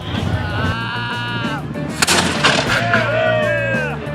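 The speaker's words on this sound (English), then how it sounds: "I get to go out there on the beach and light the cannons." Booming cannon blasts fired on a beach during festivities at Cedar Key ring out amid a noisy outdoor crowd, with bleating-like cries and chatter layered over the rumble.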